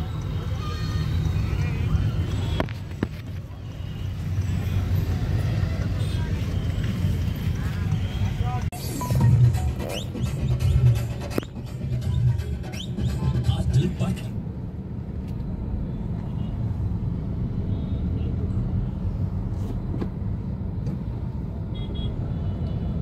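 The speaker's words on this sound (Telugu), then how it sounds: "మొత్తం అంతా ట్రాఫిక్ జామ్ అయిపోయింది" Heavy traffic jammed near Hussain Sagar during the Ganesh idol immersion makes a continuous low engine rumble with occasional horn toots and clatter, while someone talks over it.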